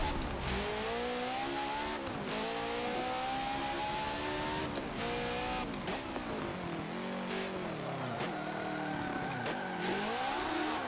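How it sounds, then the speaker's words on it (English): A Porsche race car engine in Forza Motorsport 7 revs hard through repeated upshifts, pitch climbing steadily then dropping at each gear change, loud and continuous throughout. "The sound of the motor on this thing is just amazing"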